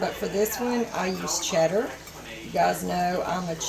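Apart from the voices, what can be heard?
No everyday noises stand out.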